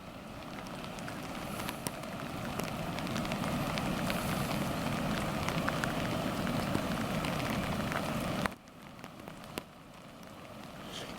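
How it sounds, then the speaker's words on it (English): Steady rain pelts down outdoors along the Port Phillip Bay to Bass Strait Rail Trail, a dense continuous patter that fills the scene, then drops abruptly quieter near the end with a few scattered drops. "the rain is preventing me from typing on my phone"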